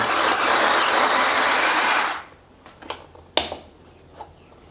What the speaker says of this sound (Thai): ปิดฝาครับ แล้วก็กดปั่น